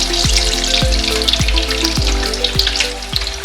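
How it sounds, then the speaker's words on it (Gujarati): Eggplant pieces fry in hot oil for a Gujarati undhiyu, with a loud, steady sizzle that runs throughout. Soft low thumps recur about every half second, like pieces being turned in the pan. "હવે પછી એ જ ગરમ તેલમાં રીંગણના ટુકડા ઉમેરી દેવાના છે."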